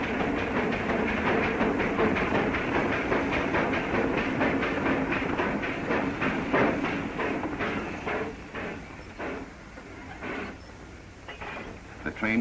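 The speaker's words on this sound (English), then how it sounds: "The train came to a stop with the passenger coach still inside the tunnel." A steam train in a radio drama labouring slowly up a steep grade into a tunnel, with a steady rumbling chug and rhythmic clatter, loud at first and fading slightly toward the end.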